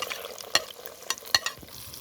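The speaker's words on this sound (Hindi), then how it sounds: "अब जो है ना इसके अंदर प्याज और जो टमाटर काटे थे बारीक बारीक वो ऐड करेंगे।" Finely chopped onions and tomatoes drop into hot cooking oil for a village-style chicken korma, giving two sharp crackling bursts of sizzle with quieter frying and stirring between them.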